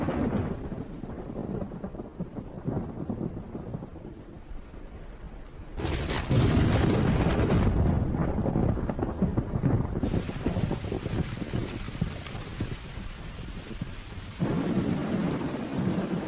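A late-August thunderstorm over a dry valley with a stream, heavy rain roaring steadily while deep rolls of thunder swell and fade, loud and enveloping, with gusts buffeting the microphone.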